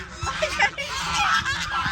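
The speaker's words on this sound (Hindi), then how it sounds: "ये मुर्गियाँ हैं" Chickens and ducks on a farm make a busy, close stretch of honking, quacking fowl calls, several overlapping in quick succession with no pauses.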